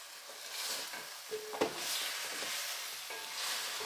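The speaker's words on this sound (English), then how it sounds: "Add the pumpkin, add salt, and saute this for at least 2 minutes." Pumpkin pieces sautéing with salt in a pan give a soft, steady sizzle with light stirring scrapes and one brief clunk near the middle, heard close and alone without talk.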